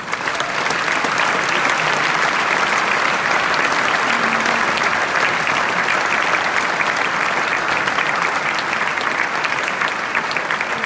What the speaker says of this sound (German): Applaus für die Ballettschule der Oper Graz.